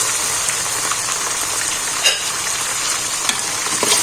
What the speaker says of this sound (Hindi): प्याज को ब्राउन होने तक हम फ्राई करेंगे।